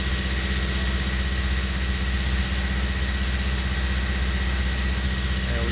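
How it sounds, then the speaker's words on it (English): An old Massey tractor engine labours uphill in the Farming Simulator 19 video game. It gives a steady, droning, lugging hum with a constant low throb and no breaks. "Might be slightly overheating the engine, but we got it up that hill."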